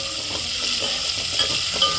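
Steady, close sizzling of tomatoes frying in hot tempering oil, a constant hiss with occasional soft pops and stirring scrapes.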